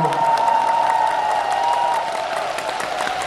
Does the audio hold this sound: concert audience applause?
yes